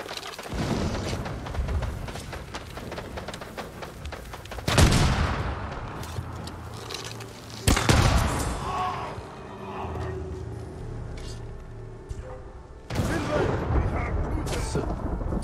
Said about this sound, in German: Böller. Böller.